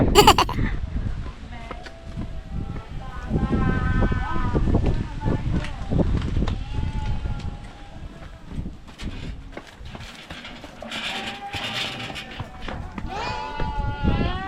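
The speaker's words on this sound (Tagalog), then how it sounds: "Ayan, ang sheep. Goat and sheep farm." Sheep and goats on a farm at a countryside campsite resort in Bulacan, with several wavering bleats rising over footsteps and near chatter from visitors.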